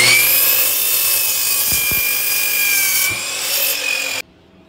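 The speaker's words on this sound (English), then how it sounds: "now when I'm making my cut, I have both of these 2x4s clamped together." A saw cuts through two 2x4 boards clamped together for a deck railing, giving a loud, steady, continuous whine that holds for about four seconds and then stops abruptly.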